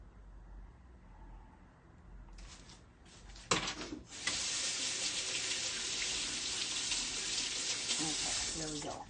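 A kitchen tap starts running near the midpoint after a few quiet clatters, then pours steadily and loudly as fingers are washed clean during vegan cookie dough bar preparation.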